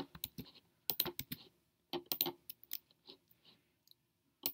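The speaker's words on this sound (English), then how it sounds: "and type your password" Keys on a computer keyboard are tapped in short irregular bursts as a password is typed, with crisp close clicks separated by brief pauses and no voices.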